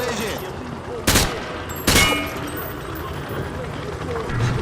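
Rifle fire on a shooting range in the video game Call of Duty Modern Warfare 2, two sharp loud shots about a second apart, with chatter faintly underneath.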